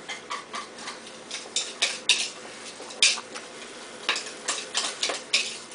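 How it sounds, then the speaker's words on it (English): Milk mixture whisked in a bowl, a rapid series of light clinking taps as the whisk strikes the sides, irregular bursts close up with no talking. "And then I'm going to whisk this."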